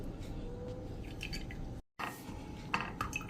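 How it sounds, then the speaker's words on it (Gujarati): Cumin and fennel liquid is wrung through a cotton cloth, making soft wet squishes and trickling drips close by. A brief silent gap falls partway through, then the squeezing resumes. "હવે આને આપણે એકદમ સરસ નીચોવી લેશું"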